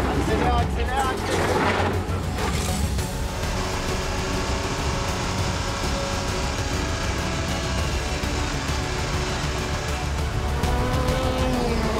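A car accelerates during a driving lesson, its engine a sustained loud drone that climbs in pitch toward the end, with a voice talking over it.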